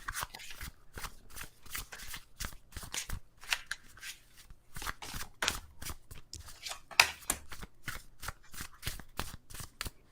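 A tarot deck is shuffled close up in repeated quick riffles and card slaps, an irregular run of crisp bursts with short pauses between them and no talk.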